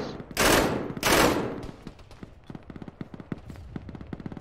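Enemy soldiers' gunfire in the ShackTac Arma video game: two loud, dense bursts of fire up close, then a rapid stream of sharper, quieter single shots rattling off in quick succession.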